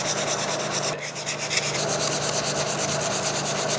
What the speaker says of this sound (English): I sand using circles and figure eights to mimic a random orbit sander.